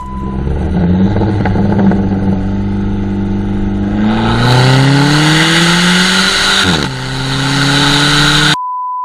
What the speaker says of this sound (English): So let's start it up, take it for a quick little spin, and see if it works.